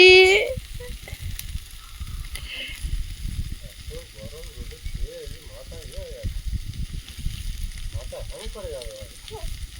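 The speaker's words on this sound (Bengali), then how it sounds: "ভেন্ডি ভাজা অর্ধেকটা হয়েছে" Okra (bhindi) frying in a pan gives a steady close sizzle throughout, with a brief clatter near the start and people talking intermittently over it.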